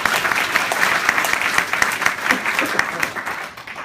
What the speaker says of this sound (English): Oh, go ahead, you can applaud.